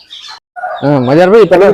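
Aseel chickens, two hens and a rooster about four months old, give a short, loud, close warbling call that rises and wavers after a brief softer squawk.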